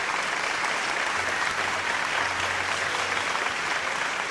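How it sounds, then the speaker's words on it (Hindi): Audience at an Urdu musical tribute evening applauding, a dense, even wash of clapping that holds steady and fairly loud throughout, with a faint low hum underneath. "सबकी भरपूर तालियों में।"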